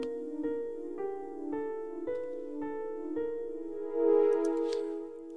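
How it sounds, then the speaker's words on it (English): A piano plays a simple melody of evenly spaced notes over sustained synthesizer tones, with a brighter swell near the end. "So that has a piano melody and a synthesizer"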